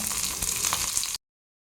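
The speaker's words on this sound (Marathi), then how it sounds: "जिरं छान तडतडलं की त्यामध्ये कढीपत्ता ॲड करायचा आहे" Cumin seeds and curry leaves sizzle in hot oil while making a cucumber multigrain pancake batter, a dense close crackle that runs steadily and then cuts off abruptly into silence.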